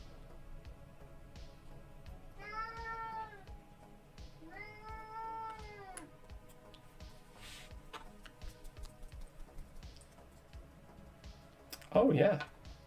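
Two drawn-out, plaintive meows from a pet cat indoors, fairly close, followed by light keyboard typing and clicking, ending in a brief louder bump.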